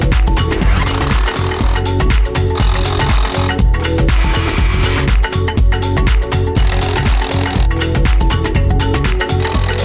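A power drill bores holes in the basement of a 1917 mansion under renovation, a loud, continuous grinding roar with rhythmic juddering pulses, close and unbroken for about ten seconds.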